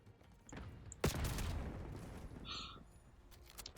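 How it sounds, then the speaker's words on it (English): Gunfire in the Call of Duty video game sounds as a burst of shots with a loud boom near the start, followed by sustained rumbling noise and a few scattered smaller impacts. "Just keep shooting and use all the bullets"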